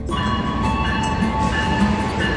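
A locomotive-hauled local train on the Surabaya–Sidoarjo line rumbles steadily and loudly close by, with sustained tonal whines riding over the continuous rolling noise.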